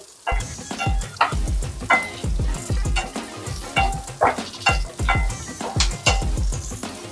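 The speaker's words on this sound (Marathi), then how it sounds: "तर गॅसची फ्लेम वाढवली आहे आणि कांदा छान आपल्याला ना थोडासा मऊ करून घ्यायचा आहे" Onions frying in a pan over a high gas flame, with a steady sizzle under rhythmic stirring and scraping strokes, close and moderately loud, with no talking.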